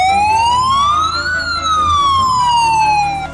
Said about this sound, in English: Field Ambulance.